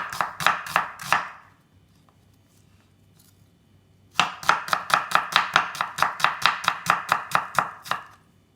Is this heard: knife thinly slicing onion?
yes